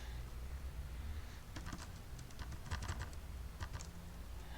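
Quick bursts of close, quiet typing on a computer keyboard, irregular clusters of key clicks over a faint background hum.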